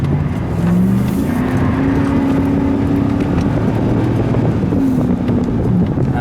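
GM Sierra pickup truck engine revving hard, a loud sustained roar that rises and holds with a rough rumbling tone, close by and buffeted by wind noise.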